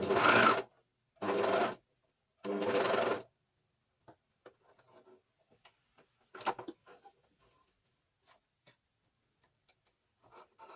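Three loud bursts from a coverstitch machine top-stitching the neckband of a knit top, each about a second long with short gaps, then quiet handling ticks and small clicks.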